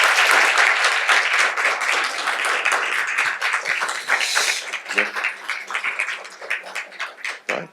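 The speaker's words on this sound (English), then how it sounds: "please give a round of applause to all of our candidates tonight" A crowd at an evening candidates forum for a DEI commission applauds, with full, dense clapping at first that thins into scattered individual claps toward the end.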